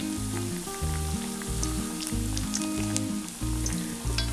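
Green gram vadas sizzle in hot oil, a steady close crackle and hiss with small pops, while steady low beats from background music run underneath.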